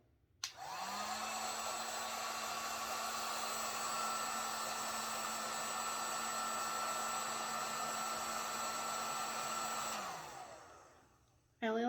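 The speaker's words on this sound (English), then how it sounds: "to use the heat gun to heat around the sides" Heat gun blowing hot air onto candle wax while marbling a candle: a steady, loud whooshing roar with a fan whine that runs for about ten seconds, then cuts off and fades.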